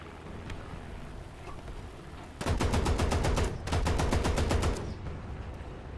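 Rapid machine-gun fire shreds an open-top flak vehicle in a video game, two loud sustained bursts of evenly spaced shots separated by a brief gap, over a low background rumble with no talking.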